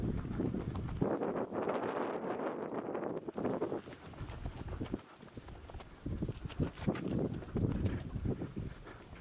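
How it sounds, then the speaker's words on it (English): Warm, gusty wind on a day out at the Biltmore House in the Blue Ridge Mountains buffets the microphone in uneven rushes and rumbles, easing briefly midway before picking up again. "it's like warm but windy"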